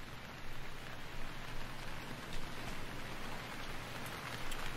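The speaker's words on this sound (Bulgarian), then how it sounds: "Уоу, вали дъжд и пече слънце." Steady rain in the video game Stranded Deep hisses and patters continuously at a moderate level, with no voices, a dense wash of falling drops throughout.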